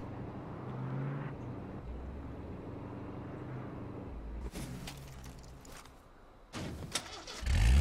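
A car engine in the H1Z1 video game cranks and tries to start in a few short bursts, with quieter engine noise between the attempts, heard alone without talk.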